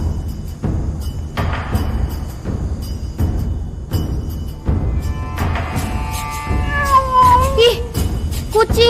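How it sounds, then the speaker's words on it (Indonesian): A cat meows several times near the end, rising and wavering cries over a steady background of rhythmic noise, fairly loud and close. "Ih, kucing."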